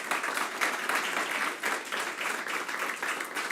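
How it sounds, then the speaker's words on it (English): Audience applause for speakers at the end of a conference panel on election observation, an even, sustained roll of many hands clapping in a hall, moderately distant and without talk. "A round of applause to them."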